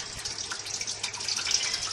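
Pre-soaked white beans drain in a clean kitchen sink, with a steady, soft trickle and patter of water running off them, close and continuous without any talking.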